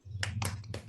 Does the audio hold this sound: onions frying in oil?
no